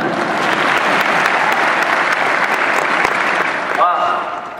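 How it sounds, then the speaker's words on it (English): An audience at a pharmacy commencement ceremony applauds loudly and steadily, the clapping thinning out toward the end. "I would appreciate your applause after everything I say."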